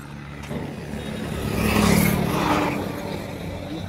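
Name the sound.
vehicles arriving on the road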